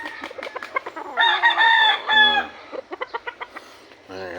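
Backyard chickens cluck in short repeated bursts while foraging, with a longer drawn-out crowing call in the middle, all close and loud with no talking.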